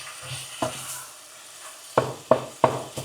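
Cabbage and beef mince cook in a pan with a soft background sizzle, punctuated by several sharp scraping and stirring clacks of a utensil against the pan.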